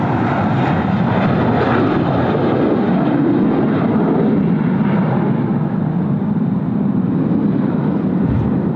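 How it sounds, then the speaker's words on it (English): A Jetstar Airbus A320 airliner departing for Adelaide sends a loud, steady roar of jet engine noise across the airport, broad and rumbling throughout without voices. "This is the Jetstar A320 off to Adelaide."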